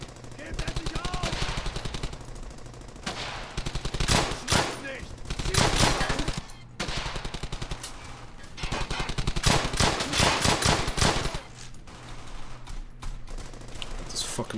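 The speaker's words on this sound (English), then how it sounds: "This fucking machine gun right here." Loud, sustained bursts of machine gun fire in the World War II shooter Brothers In Arms: Hell's Highway, rapid rattling volleys broken by short pauses, with game voices mixed in.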